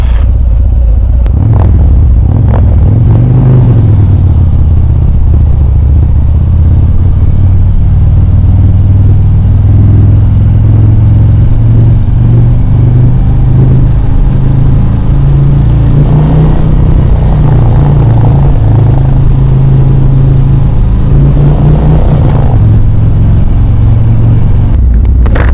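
Harley-Davidson motorcycle ridden two-up on a Mustang seat, giving a steady, close low engine drone that rises and falls slightly with the throttle for the whole stretch, with no talking.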